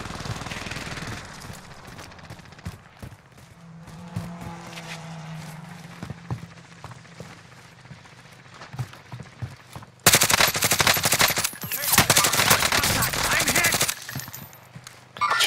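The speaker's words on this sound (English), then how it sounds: "Dude, stop shooting at me, bro." Rapid video game gunfire in a team shooter match, sporadic shots early giving way to loud sustained automatic bursts in the second half, with faint talk and game sounds underneath.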